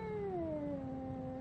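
A cat in the horror game Dreadout 2 gives a single drawn-out meow that slides downward in pitch, fairly quiet and clear with no talk over it.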